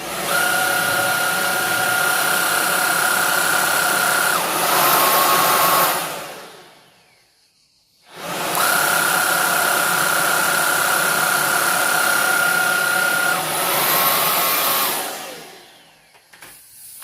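A Proscenic i10 cordless stick vacuum cleaner runs with a steady, close motor whine. It shuts off, stays silent for about two seconds, then starts up again at the same pitch and keeps running.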